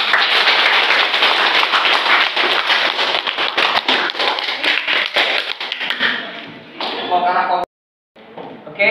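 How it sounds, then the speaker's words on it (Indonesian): A seated audience at an Indonesian university workshop applauds a presenting group, producing dense, loud, sustained clapping that thins out, then breaks off abruptly near the end. "Kasih aplaus untuk kelompok 2."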